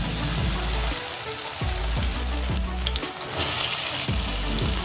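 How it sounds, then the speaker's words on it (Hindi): Small moong dal pakoras frying in hot oil, a dense, steady close sizzle with a low rumbling bed and faint bubbling, no talking. "देख सकते हैं तेल हमारा अच्छे से गर्म था, इसीलिए कितना अच्छा से ये कुक हो रहे हैं"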